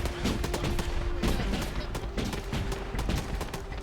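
An anti-tank launcher fires during an Arma 3 combat mission, amid a dense, continuous stretch of sharp, loud gunfire cracks and blasts with hardly a pause.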